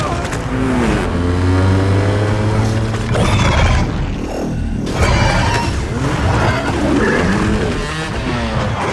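A motorcycle engine revs hard and roars past with rising and falling pitch, amid loud mixed noise and tire sounds, in a film action scene.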